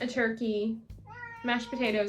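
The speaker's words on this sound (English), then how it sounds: "That's my cat meowing" A house cat meows repeatedly in a bright kitchen while someone talks about holiday food; several drawn-out, wavering meows come close and fairly loud, overlapping the speech.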